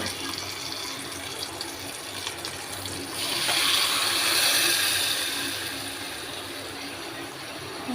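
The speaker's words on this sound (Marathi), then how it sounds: "थोडंसं पाणी टाकून घेऊ" Water poured from a vessel into a pan of cooking dal in a home kitchen, a soft gushing pour swelling for a couple of seconds over a steady low background, close and without talk.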